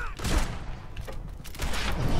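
Shotgun blasts in Fallout 4 go off in a busy stretch of several sharp, loud bangs over roughly two seconds, mixed with game noise and a background voice.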